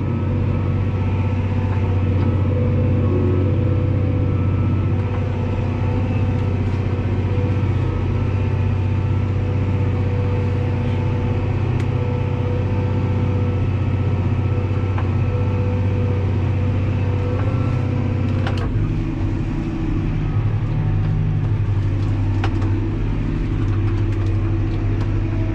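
A Fendt 314 tractor engine working under load while plowing muddy ground, a steady loud mid-low drone that holds throughout with a slight shift in pitch partway through.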